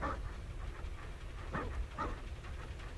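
A happy dog in the video game Zenless Zone Zero pants in a steady rhythm with a few soft whimpery breaths, moderately close over a constant low background hum.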